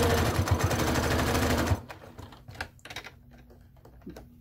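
Close sewing machine stitching around a fabric circle pouch, a dense rapid whir for nearly two seconds that stops abruptly, followed by quieter clicks and handling noises.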